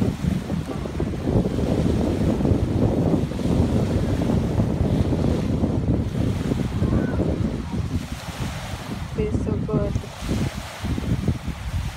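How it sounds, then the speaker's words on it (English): Wind buffets the microphone at Burt Lake beach in Indian River while waves wash steadily onto the shore, a continuous loud rushing roar with gusts throughout. "It's kind of windy."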